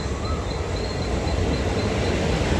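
A fast local commuter train on a Mumbai-area line pulls in, a steady loud rumble of wheels and carriages with a faint high squeal over constant station noise, and no one speaking.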